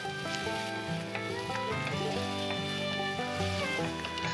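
Onions with curry leaves sizzle steadily in hot oil in a pan for egg gravy, a constant fizzing hiss under prominent background music.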